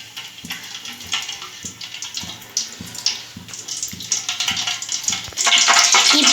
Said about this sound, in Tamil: பிரியாணி பாத்திரம் வச்சோன்னா 20 டீஸ்பூன் எண்ணெய்,